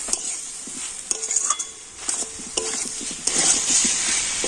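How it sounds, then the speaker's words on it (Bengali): Soaked potatoes are stir-fried with spices in a pan, giving a close sizzle broken by repeated spatula scrapes and metallic clinks in an uneven rhythm, with no talking. "আলুর সাথেও মশলাগুলো দিয়ে ভালো করে কষিয়ে নিচ্ছি"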